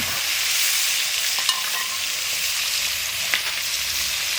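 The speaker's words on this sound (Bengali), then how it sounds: "এবার আমি ডিমটা দিয়ে দিচ্ছি কড়াইতে।" Eggs fry in a wok of hot oil with a dense, even sizzle and a couple of brief utensil clicks, close up, with no talking.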